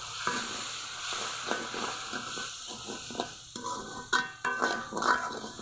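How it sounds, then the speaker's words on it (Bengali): Spices with salt, turmeric and chili powder are stirred and fried in a little water for Bengali chicken kosha with new potatoes, a steady close sizzle broken by repeated spoon scrapes and a few sharper clinks near the end. "আরও একটু জল দিয়ে ভালো করে কষিয়ে নিতে হবে।"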